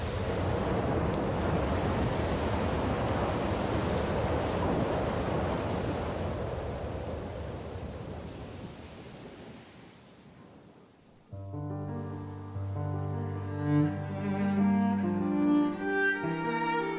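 Steady rain falls over a Champagne vineyard, a dense broadband patter that holds for about ten seconds, then fades and gives way to music.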